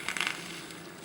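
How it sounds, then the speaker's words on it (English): A couple of water drops hit hot solder, giving a quick burst of crackling sizzle at the start that fades into a soft, steady hiss. "just drip a couple drops of water on it"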